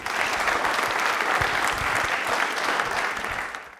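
An audience in a quiz show studio claps continuously and fairly loudly, a dense sustained round of applause that fades slightly at the end.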